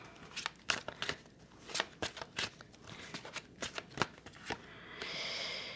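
Tarot cards are shuffled up close in quick crisp riffles and flicks, an irregular run of sharp papery snaps ending in a soft sustained rustle.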